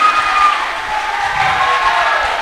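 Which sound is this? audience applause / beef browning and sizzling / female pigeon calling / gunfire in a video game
audience applause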